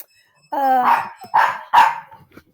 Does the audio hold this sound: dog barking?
yes